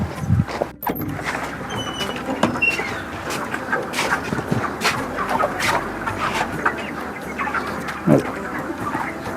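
A crowd of broiler chickens in a poultry shed clucks and chatters continuously at close range, a busy overlapping murmur with occasional sharper calls and some talk in the background.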